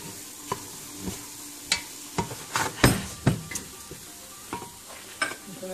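Spiced chicken filling for pastilla, mixed with toasted almonds, stirred in a pan on a just-switched-off stove: a series of irregular scraping and clattering strokes, some sharp and louder, over a faint residual sizzle, with no talking.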